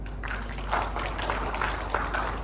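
A church congregation claps during a sermon, a moderate, somewhat rhythmic patter of hands over a steady low hum, fairly even in loudness without any voices.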